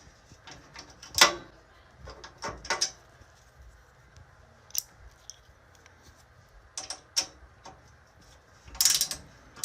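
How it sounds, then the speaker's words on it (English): A small ratchet tool works on a metal smart box spring frame, giving scattered bursts of clicking and metallic rattling separated by quiet pauses. "This little ratchet tool comes into play."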